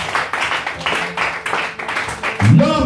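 A church congregation applauding during a French-language worship service, brisk rhythmic clapping from many hands close by, growing louder toward the end as voices join in.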